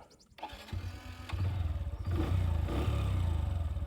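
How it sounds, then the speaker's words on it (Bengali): A Honda Dream 110 motorcycle starts with a short cranking clatter, then settles into a steady, close single-cylinder idle with a rhythmic putter. "হোন্ডা কোম্পানির বাইকগুলোর সাউন্ডটা অনেকটাই কাছাকাছি"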